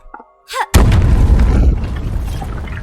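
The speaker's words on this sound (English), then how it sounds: "Both barrels to trigger big explosions and break objects." In a video game, exploding barrels let out a sudden loud boom after brief quieter game sounds, followed by a rumbling, crackling decay that fades over a couple of seconds.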